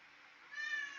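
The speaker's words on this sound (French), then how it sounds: "Je ne sais pas si vous entendez le chat qui réclame" A cat meows insistently, a drawn-out call that swells louder partway through, heard alone with no talking.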